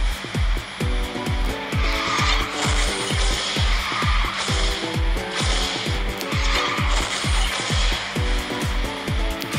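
A car in the racing video game Garena Speed Drifters drifts with a continuous loud tire squeal over a steady revving engine drone, punctuated by a regular rapid rhythm of repeated thumps throughout.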